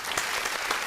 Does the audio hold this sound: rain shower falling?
no